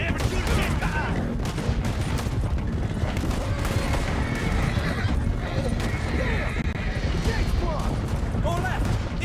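Horses neigh and gallop in Red Dead Redemption 2, with whinnies and pounding hooves mixed into a busy scene of gunfire and shouting voices, loud and dense throughout.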